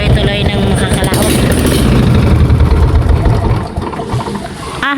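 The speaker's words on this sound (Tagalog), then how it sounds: "umandar na po yung aming makina" A small fishing boat's engine runs at sea, a loud, rough mechanical drone close by that holds for a few seconds, then drops in level near the end.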